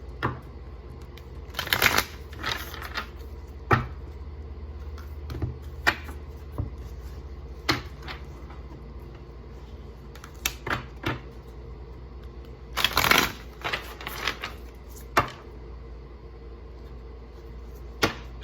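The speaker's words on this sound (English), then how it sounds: "These cards are easier to shuffle than some of the other ones for me" Oracle cards being shuffled by hand in a cold hotel room, with repeated bursts of riffling and card slaps at irregular intervals over a steady low background hum, close and fairly loud, with no talking.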